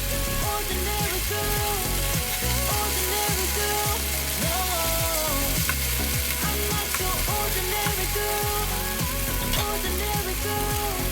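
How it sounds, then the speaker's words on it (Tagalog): Pork stir-frying in a hot pan, a steady loud sizzle with a continuous crackle, heard alone with music running underneath. "i-stir fry lang po natin ng siguro mga 3 minutes lang po natin ito i-stir fry"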